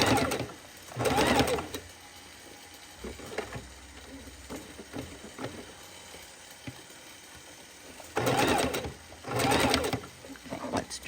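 A Singer Heavy Duty sewing machine runs at low speed, with a few short buzzing bursts of stitching and quieter mechanical clicks between them, close by.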